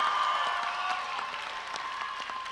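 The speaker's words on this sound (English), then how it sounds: "Give yourself a round of applause" A graduation ceremony crowd claps steadily, a dense patter of applause that holds at an even level throughout.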